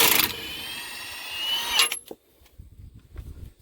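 An impact wrench loosens sway bar bolts on a Jeep, a loud sustained buzzing burst for nearly two seconds that cuts off sharply, followed by quieter rattles and handling noises.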